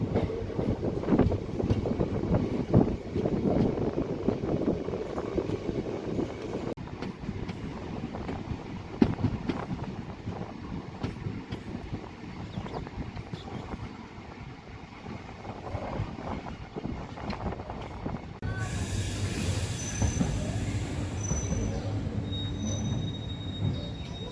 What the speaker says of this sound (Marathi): ढालगाववरून दोन मिनिटाच्या स्टॉपनंतर आपली ट्रेन निघालेली आहे